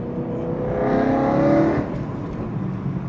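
A BMW E92 M3 engine climbs in a smooth rising rev, growing louder to a peak before dropping back to a rumbling idle, heard close and alone.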